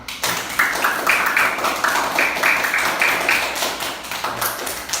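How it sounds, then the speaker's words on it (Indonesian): Children in a classroom clapping together in quick, uneven bursts, close and fairly loud, with a little background murmur of voices. "Tepuk tangan dulu buat kita semua."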